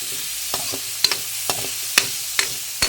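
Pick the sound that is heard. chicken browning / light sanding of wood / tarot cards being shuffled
chicken browning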